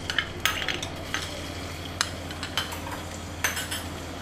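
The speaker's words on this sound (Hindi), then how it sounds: "इसको हल्का सा फ्राई करेंगे।" Chopped garlic fries in 2 to 3 tablespoons of cooking oil in a pan for a Chicken Manchurian, giving a steady close crackling sizzle broken by sharp clinks and scrapes of stirring, with no voices.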